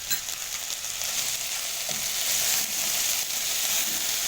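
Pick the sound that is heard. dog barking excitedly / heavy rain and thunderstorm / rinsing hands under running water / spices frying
spices frying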